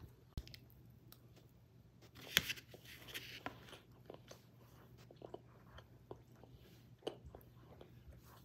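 Someone chews a hamburger patty up close, with faint, soft wet mouth sounds and a few sharper crunchy bites scattered through a quiet stretch.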